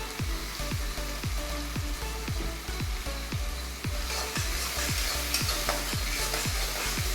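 Chopped onion and tomato sizzle in a pan while a spoon scrapes and stirs them in a quick, regular rhythm of roughly twenty strokes, close and clear over a steady frying hiss.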